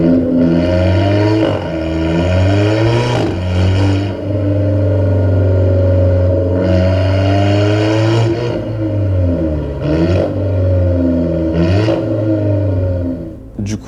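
An Alfa Romeo 4C Spider engine revs repeatedly in loud, close bursts, rising and falling in pitch with a strong sustained tone between blips, heard alone.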